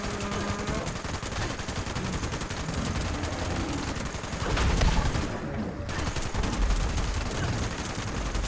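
Sustained .50 caliber machine gun fire in Fallout 76, a dense continuous rattle of rapid shots at steady loudness that swells briefly near the middle, with little or no talking.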